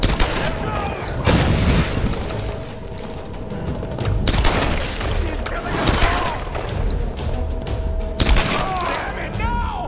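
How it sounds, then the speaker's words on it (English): Pistol shots ring out in a Tomb Raider (2013) firefight, several sharp reports scattered across the stretch with booming impacts, mixed with game effects and someone talking throughout. "If they already know, then I'm just going to go ahead and use my pistol."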